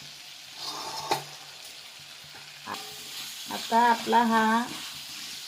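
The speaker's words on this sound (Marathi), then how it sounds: "आता मी हे बटाटा ह्याच्यामध्ये घालून तळून घेतलेला आहे व टमाटा टाकलेला आहे।" Potatoes and tomatoes for a Kolhapuri-style soya chunk and potato curry fry in a pan, a low sizzle with a few spoon knocks, mostly covered by someone talking nearby.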